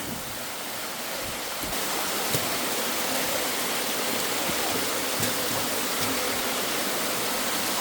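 Water flows steadily between rollercoaster tracks in a broad, continuous rushing wash, close and fairly loud, with no talk over it.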